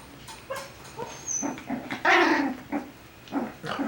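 A Coton de Tulear puppy gives a few short whimpers and yips, close and fairly soft, with scuffling movement between them and one louder cry partway through.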